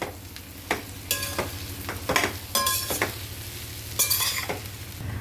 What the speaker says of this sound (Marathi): गॅसची फ्लेम मोठी करून हे सगळं चांगलं एकजीव करून घेऊया